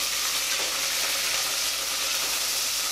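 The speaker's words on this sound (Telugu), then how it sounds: "అలాగే పచ్చిమిర్చి, ఉల్లిపాయలు, వేసి వేగాలన్నమాట కాసేపు." Green chillies and onions fry in a pan for a biryani, making a dense, steady sizzle that stays loud and close throughout with no voices over it.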